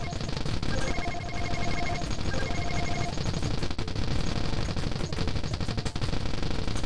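Rapid, dense bullet-firing effects from the video game Rainbow Bullet rattle continuously over a constant electronic backdrop, loud and unbroken, with faint tonal beeps layered on top.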